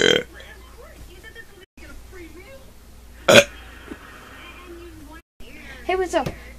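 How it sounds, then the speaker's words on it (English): A person burps several times in a row, with short separate bursts, one sharp and loud and the rest rougher and throatier, spaced out across the stretch, with near, close sound. "It's all about burps. Different burps that I did."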